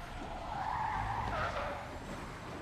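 A truck skids in Marvel's Spider-Man, a gritty tire squeal sweeping up and down for a couple of seconds at moderate volume over a low engine rumble.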